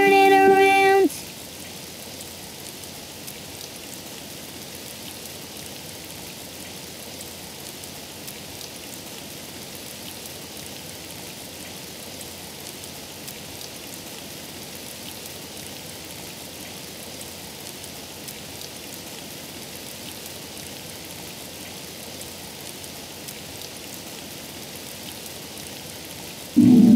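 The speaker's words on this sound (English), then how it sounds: "Oh, it's raining outside" Steady rain falls outside in a cartoon scene, a continuous even hiss of drops lasting throughout with no talking, briefly bracketed by short tonal sounds at the very start and end.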